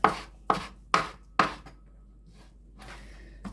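Wild garlic being chopped into small pieces with a knife on a board, four sharp evenly spaced thuds about half a second apart, then a few fainter taps and soft rustling.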